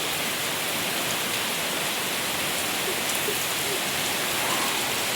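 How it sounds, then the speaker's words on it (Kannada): Heavy monsoon rain pours steadily and loudly close by, a dense, unbroken hiss of drops striking surfaces for the whole stretch, with no voices over it. "ಇಲ್ಲಿ ನೋಡಿ ಮಳೆ ಎಷ್ಟು ಜೋರಾಗಿ ಬರ್ತಾ ಇದೆ"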